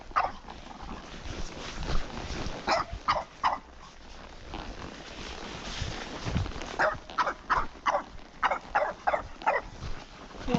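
A dog barks repeatedly at a horse on a trail, quieter early on, then a rapid run of sharp barks toward the end, with light outdoor movement noise underneath.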